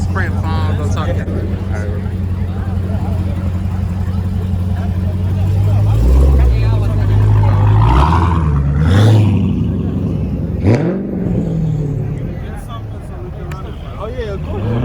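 A car doing a burnout at a car meet, its engine roaring and revving loudly with a rising, swelling pitch while people chat and shout nearby.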